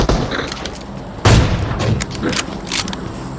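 Explosions and bursts of gunfire in the PUBG Mobile video game: a sudden loud boom lands partway through, followed by scattered shots, while players talk over the action.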